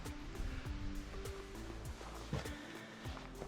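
Steady broadband rush of the Falls of Foyers near Loch Ness, Scotland, continuous and fairly loud, with a few faint knocks and handling noises over it.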